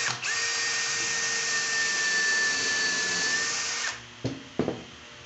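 Power drill with a drill bit assembling a drawer, a loud, close, steady whine for about four seconds that winds down, followed by two short bursts.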